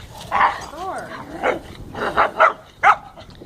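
Puppies playing together give out a burst of short growls, yips and small barks, some close and loud, with brief pauses between, while a person talks nearby.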